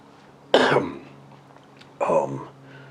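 Two short, rough bursts of coughing and throat clearing, about a second and a half apart, close by with quiet between them.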